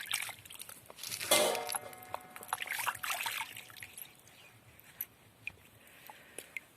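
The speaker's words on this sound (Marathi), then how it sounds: "हे बटाटे चांगले धुवून घ्यायचे आहेत। तर स्वच्छ पाण्याने चांगले धुवायचे आहेत।" Large potatoes are washed in clean water for homemade wafers: a burst of splashing and trickling up close, then softer sloshing, and scattered light knocks and drips as the potatoes settle.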